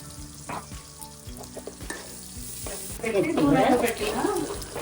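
Onions fry in oil with salt for a Nellore-style fish curry, a close steady sizzle with stirring clicks and scrapes, the frying noise swelling louder toward the end.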